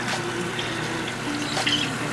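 Water splashes and gurgles as it is dumped into a saltwater reef aquarium, a short close pour with no talking over it.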